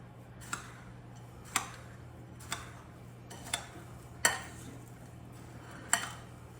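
A spoon mixing salt and melted butter into a cheesecake crust in a bowl, six faint separate clinks against the bowl spaced about a second apart over a low steady hum.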